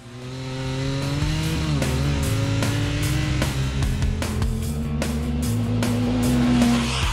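Yamaha three-cylinder side-by-side engine and exhaust, a loud close droning growl that revs and pitches up and down continuously, with no talk over it.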